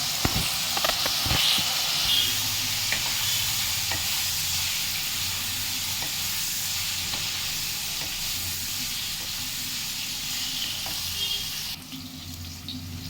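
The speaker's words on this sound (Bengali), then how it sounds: "এবার একটু হলুদ দিয়ে এটাকে ভেজে নিতে হবে ভালোভাবে" Cauliflower fries with turmeric in oil with a steady hissing sizzle and a few clinks of stirring early on, close by, with no voices.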